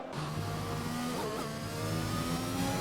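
Racing car engine in a Formula-style racing video game at Imola, a steady loud drone with a shifting pitch, a brief rev change midway, continuous throughout.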